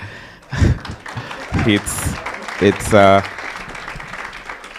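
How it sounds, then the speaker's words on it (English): An audience applauds briefly in the background while a voice speaks over the clapping. "I want to give a very special round of applause to Festus."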